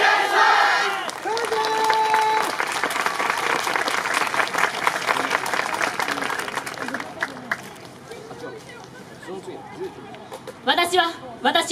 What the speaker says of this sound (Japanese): どうかお手拍子、お心拍子のほどよろしくお願いします。